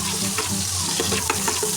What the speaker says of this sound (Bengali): এবার সামান্য একটু নাড়াচাড়া করে নেবো।